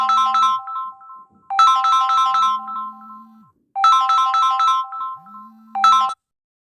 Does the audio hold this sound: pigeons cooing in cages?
no